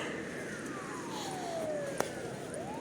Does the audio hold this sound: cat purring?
no